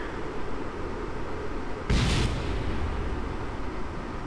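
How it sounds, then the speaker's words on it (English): A liquid fuel rocket blows up in Kerbal Space Program: one short, bright burst of blast noise over a steady background rumble, fading within half a second. "that explosion was our liquid fuel rocket"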